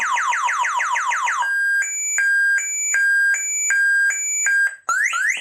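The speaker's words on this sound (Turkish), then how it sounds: "Bu şekilde alarm çalacak." A cheap motorcycle alarm with a single remote and built-in MP3 player sounds loud and close: a rapid run of rising siren chirps, then a steady repeating beeping tone pattern, then a fresh rising sweep at the end.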